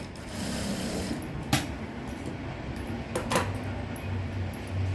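A sewing machine hums steadily through a straight seam on a blouse, a close, continuous mechanical whir with a few faint clicks and knocks on top and no talking.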